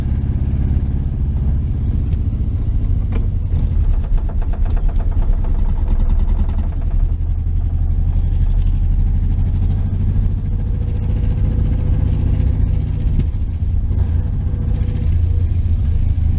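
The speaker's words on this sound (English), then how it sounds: "It's idling but missing." A 1973 VW Super Beetle air-cooled engine with a Dellorto FRD 34 carburetor idles steadily up close, its rough, uneven low chugging consistent with a cylinder misfire, with no voices over it.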